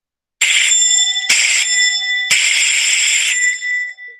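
A harsh electronic presentation timer buzzer sounds three times, two short bursts followed by a longer one, loud and alone in a quiet room.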